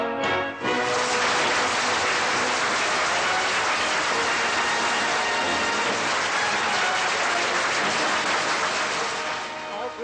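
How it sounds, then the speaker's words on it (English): Studio audience applause at a 1961 radio show, a dense, sustained wash of clapping that swells in after a brief start and holds steady and loud for the full length with no voices over it. "I hope Bruno Everard appreciates the applause I'm getting."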